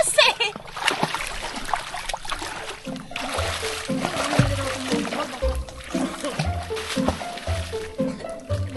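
Water splashes and splatters repeatedly through the scene, mixed with talking voices and background music, fairly loud and busy throughout.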